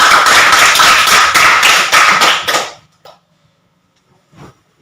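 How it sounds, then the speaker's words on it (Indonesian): A group of children in a school gym lesson practicing forward rolls clap their hands in quick rhythmic unison for about two and a half seconds, then stop abruptly, leaving near silence with a couple of faint knocks. "Ya, tepuk tangan."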